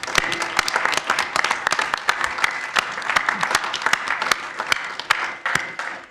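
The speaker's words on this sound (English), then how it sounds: "we give them a round of applause for coming out" Lively audience applause at a village board meeting in La Grange, many hands clapping with sharp, distinct claps standing out from a steady dense patter, continuing throughout at moderate loudness.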